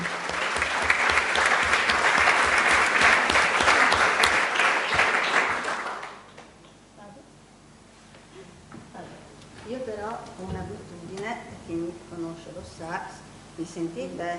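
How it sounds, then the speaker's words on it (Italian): An audience at a lecture applauds steadily for about six seconds, then the clapping stops and a voice begins speaking over a quiet room. "direi un applauso per la cosa"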